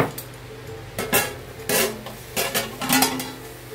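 Lid lifted off an idli steaming pot, with a few sharp metallic clanks and clatters of the lid against the pot, spaced out over a few seconds, close by, no talking.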